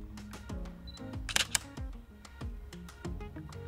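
A Canon EOS 77D DSLR shutter fires at 1/800 second, giving a quick, crisp double click over steady background music.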